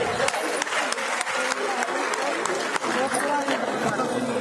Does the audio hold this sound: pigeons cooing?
no